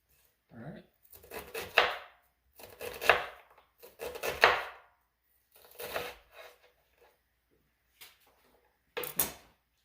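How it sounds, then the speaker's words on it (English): An onion is chopped with a knife on a cutting board, bursts of rapid close knife strikes separated by pauses, with someone talking faintly at one point. "Chop up the last onion."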